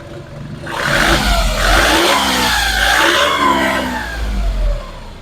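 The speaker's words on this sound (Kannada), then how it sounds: "ನೋಡ್ಬೋದು ಇಂಜಿನ್ ಸ್ಟಾರ್ಟ್ ಆಗಿದೆ," A red Skoda Fabia diesel car's engine runs steadily in a showroom, with a smooth, even hum and a slight rise in revs partway through, close and alone without talk.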